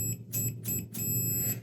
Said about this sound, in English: Now I've got the multimeter set up into the diode beep setting